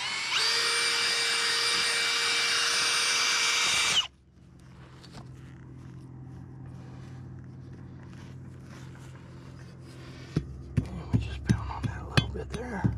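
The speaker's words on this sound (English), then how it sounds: "I'm going to kind of bring my auger out against the side." A hand-held power auger bores into dirt beside a step-down dirt hole trap set, a loud steady whine for about four seconds that stops abruptly, followed by quieter scraping and thumps.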